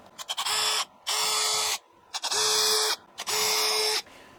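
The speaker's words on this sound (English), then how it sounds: "2mm drill bit for this bit because I need to use this hole as a guide for the forstner bit" A power drill with a 2mm bit bores guide holes in a kit guitar body in four loud, steady bursts of about a second each, its high whine broken by short pauses.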